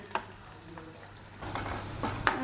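Chopped garlic sizzles in a hot pan alongside green chillies and onion, with a spatula scraping and stirring in a few strokes over a steady frying hiss, close up and without speech.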